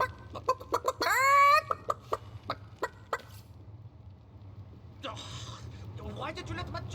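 Chicken clucking in Divinity: Original Sin, a burst of sharp clucks and a rising squawk near the start, then scattered clucks returning later over a low ambient hum.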